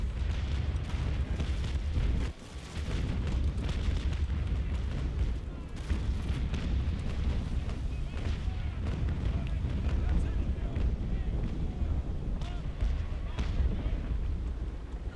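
Carronade cannon fire aboard a sailing warship in the naval game Naval Action Legends, heavy continuous rumbling booms rolling one into another with a brief lull, loud and dense throughout.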